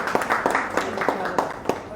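Audience clapping in a rhythmic patter to welcome new members, family of army personnel, joining the BJP at a party event, with someone talking over the applause.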